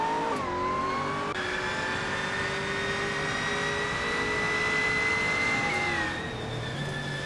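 Race cars in a racing video game roar past, their high engine whine holding steady with pitch shifts as they accelerate and change gear, loud and continuous without any talking.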